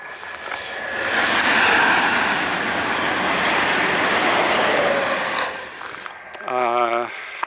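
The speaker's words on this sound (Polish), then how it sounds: "Teraz wam pokażę ładny pociąg." A train rumbles past close by in Madrid with a broad steady roar that swells and fades, followed by a short horn-like tone near the end.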